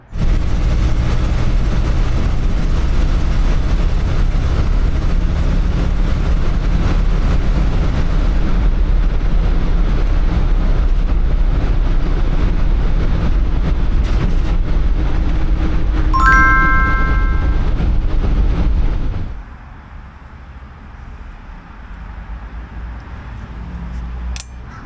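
A 1964 International Harvester Travelall C1100 on a test drive gives a steady, loud engine and road rumble, with a brief chiming tone partway through before the noise drops to a quieter idle or coast near the end.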